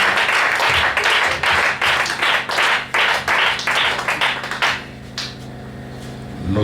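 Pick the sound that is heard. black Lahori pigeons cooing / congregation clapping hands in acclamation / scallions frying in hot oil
congregation clapping hands in acclamation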